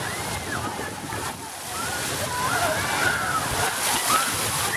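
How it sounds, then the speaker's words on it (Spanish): The geyser at Ixtlán de los Hervores erupts in a continuous loud rushing, sloshing roar of water and steam that stays steady throughout, with voices faintly audible beneath it. "Géiser de Islán. Chorro de Islán, como le llama aquí los lugareños."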